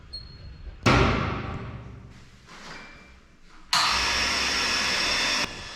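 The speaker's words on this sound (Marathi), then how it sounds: "आपला पंप चालू केला आहे." An electric water pump starts up to push water through joined pipes to an overhead tank, giving a loud broadband whir that surges, eases off and then rises again steadily, with no talk over it.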